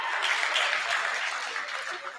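Audience applause at a gathering of students and seniors, a continuous fairly faint patter of many hands clapping together, easing slightly toward the end.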